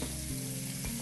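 Carrots and peppers frying in a pan over lowered heat, a steady close sizzle with slight stirring shifts and no talking.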